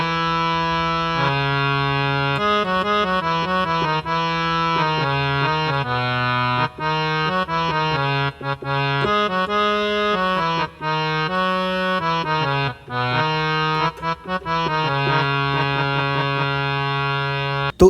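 A Casio CTK 2550 keyboard plays a harmonium tone with reverb set at 6, a sustained reedy melody with continuous held chords and stepping notes, loud and steady throughout.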